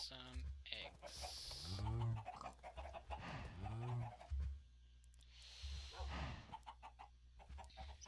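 Minecraft chickens clucking in a video game, several short, repeated clucks with a rising and falling pitch coming in bursts over a steady game background.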